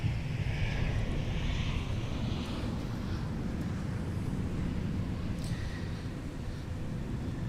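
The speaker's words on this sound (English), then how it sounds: "There's a Sun Country Tide Pod just landed from Indianapolis to Minneapolis." A Sun Country airliner landing at Minneapolis airport, a steady broad engine roar with wind noise that holds at one level throughout, heard outdoors from a distance.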